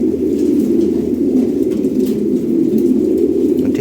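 Fancy pigeons coo loudly and close in a continuous low, throaty murmur, several birds overlapping with no pauses and no voices.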